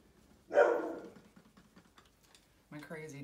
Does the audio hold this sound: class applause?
no